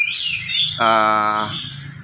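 An oriental magpie-robin (kacer) kept as a cage bird sings a loud, close, clear burst of rapid harmonic whistled notes lasting under a second, set against a background of other bird chirping.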